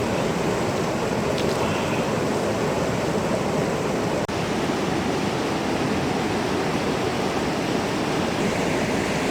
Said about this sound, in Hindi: नीचे पानी चल रहा है